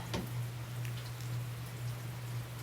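Rain patters steadily outdoors on a rainy day, a soft continuous hiss with a faint, near drip at the start over a constant low hum.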